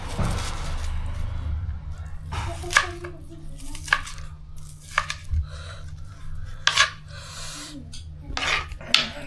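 Onion and tomato being sliced with a knife on a board, giving a run of close, crisp chopping cuts with short pauses between them and a low steady hum underneath, with no talking.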